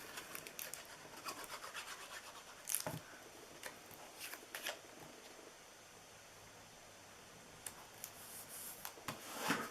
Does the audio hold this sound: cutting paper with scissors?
yes